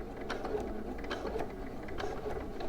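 A sewing machine stitching a seam on a pair of shorts or pants, with a steady whirring mechanical rattle of rapid needle strokes running throughout, close and without speech.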